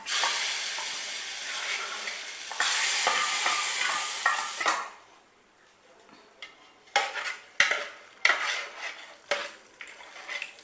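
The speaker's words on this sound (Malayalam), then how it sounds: "നമുക്ക് കടുക് വറക്കണം" Mustard seeds and curry leaves fry in hot oil for beef curry, a loud steady sizzle for a few seconds that suddenly stops. Scattered clinks and taps of a spoon against a metal pan follow, close by.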